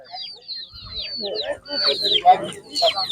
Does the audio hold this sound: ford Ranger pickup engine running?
no